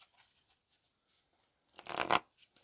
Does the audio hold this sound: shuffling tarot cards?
yes